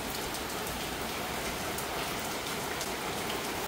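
Rain pours steadily, a dense even wash of droplets on surfaces, continuous and fairly close with no voices.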